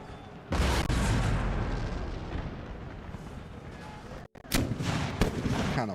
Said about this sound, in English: Kind of watching our artillery, see what they do.